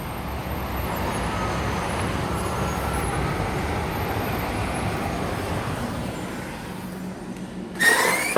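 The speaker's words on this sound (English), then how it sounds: "Look at the time of day and look at the traffic." Road traffic passing outside: a steady, even roar of vehicles that stays constant throughout, with a brief louder bump near the end and no voices.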